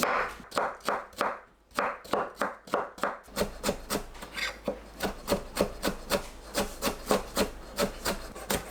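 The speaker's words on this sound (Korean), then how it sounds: "당근을 다져 준비합니다." A knife mincing carrots on a cutting board gives a rapid, even series of close, crisp chops. The chops continue without a break and no one speaks.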